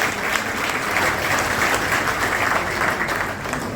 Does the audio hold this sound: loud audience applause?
yes